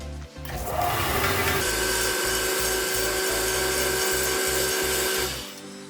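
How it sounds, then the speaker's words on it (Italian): A combined disc and belt sander runs with a steady, loud motor hum and a regular pulsing thump from the belt, close up, before winding down near the end. "ora la accenderemo e andremo a centrare il nastro utilizzando questa vite"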